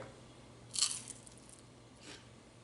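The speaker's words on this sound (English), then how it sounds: "Do you hear the crunch?" A crisp crunch from a single bite of a zero-carb taquito up close, followed by a fainter second crunch, over quiet room tone.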